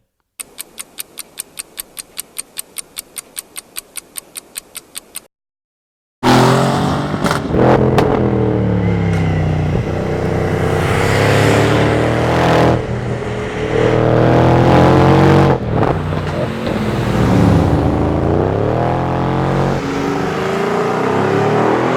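Mercedes-AMG GLE 63 S four-wheel-drive SUV in Sport Plus mode on a twisting road, its engine roaring loud and continuous with rising and falling revs, after a short stretch of rapid regular ticking and a brief silence.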